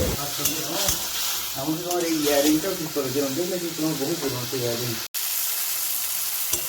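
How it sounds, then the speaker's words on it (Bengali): Onion, garlic, green chili and tomato masala sizzles steadily in a pan, a constant close frying hiss under a voice talking, cut by a brief dropout near the end. "বেশি করে কাঁচা লঙ্কা দিয়ে আর টমেটো দিয়ে ভালোভাবে কষিয়ে নিচ্ছি"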